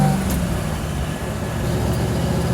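Engine of a 1947 Ford Super Deluxe pulling away in first gear, a steady, loud low rumble with road noise that holds throughout, no voices.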